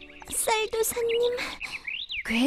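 Birds chirp and tweet in an animated cartoon, with bright, rapid, high warbling calls and rising whistles one after another, loud and close.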